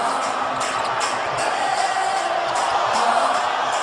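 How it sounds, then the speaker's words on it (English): A sellout crowd at an NBA basketball game between the Nets and Knicks roars and chants in a sustained, thick wash of cheering, loud and continuous with scattered whoops rising above. "And the chants of Jeremy now thundering down from the sellout crowd."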